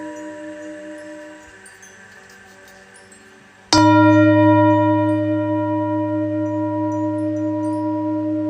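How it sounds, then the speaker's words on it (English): Soft, quiet tones hang in the background of meditation music, then a deeper chime rings out and sustains for several seconds, its shimmering overtones fading gently. "Listen to the gentle chimes in the background."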